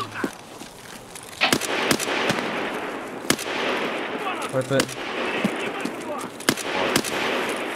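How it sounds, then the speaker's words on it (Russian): Gunfire from another player in Escape from Tarkov: scattered sharp shots and short bursts at a distance, spread across the stretch, while someone talks over them. "А, он не в нас стреляет"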